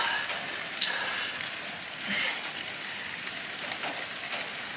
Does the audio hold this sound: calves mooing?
no